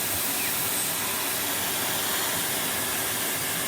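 A vacuum cleaner sucking a sausage up off the floor, heard as a steady, loud broadband roaring hiss that holds unbroken for a few seconds with no voices.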